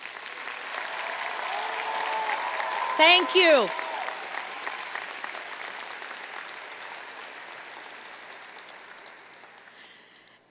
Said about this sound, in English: please give them a gigantic cardinal round of applause